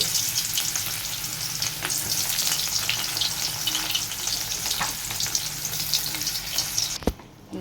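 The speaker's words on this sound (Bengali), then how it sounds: "এইদিকে তেল চাপিয়ে দিয়েছি, দেখতে পাচ্ছ। পেঁয়াজটা দিয়ে দিচ্ছি।" Onion frying in hot oil gives a loud, steady crackling sizzle that holds for several seconds, then a brief thump near the end, with no voices.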